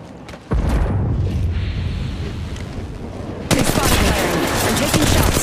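Dense gunfire in the mobile battle royale game Apex Legends Mobile: a rapid, loud burst of shots that eases off, then picks up again harder and closer.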